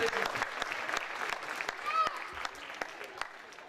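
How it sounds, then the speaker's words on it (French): Guests at a 2015 gala dinner show break into applause, a dense crowd clapping with sharp individual claps standing out, while someone speaks briefly over the noise. "Alors, on va l'applaudir."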